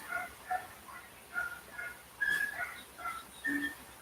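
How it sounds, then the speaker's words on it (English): Outside, dogs bark and yelp in short bursts at a distance, faint and repeated at irregular intervals, with some higher whining calls among them. "As you hear the dogs getting louder and louder out there for some reason."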